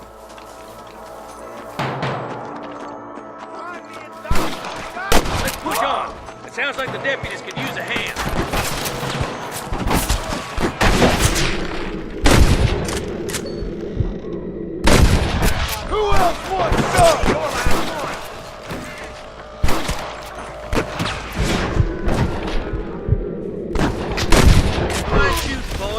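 A frontier gunfight in the western game Red Dead Redemption: dense, loud rifle and pistol shots in irregular bursts and clusters, near and far, with shouting voices and spoken lines between the volleys.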